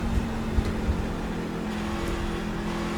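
Race trucks launch together at the start of an iRacing NASCAR esports qualifying round at Phoenix, their engines forming a steady, dense roar that holds at an even level throughout with no talk.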